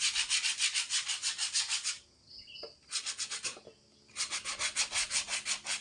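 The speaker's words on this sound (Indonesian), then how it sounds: "Nanti kita akan amplas pakai amplas kasar lagi supaya lebih cantik" Coarse sandpaper rasps back and forth over an ulin (ironwood) ladle in quick, steady strokes, close and alone, stopping twice briefly before resuming the same rhythmic scrubbing.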